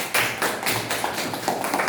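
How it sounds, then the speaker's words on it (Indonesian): A short burst of audience clapping in a classroom-style lesson, brisk and fairly loud with uneven individual claps. "Tepuk tangan untuk kita semua."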